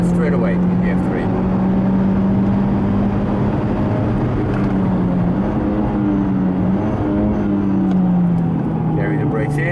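Formula 3 race car running flat out down a track straightaway, a steady loud engine drone holding a high pitch with slight wavers, heard from onboard with a voice talking over it.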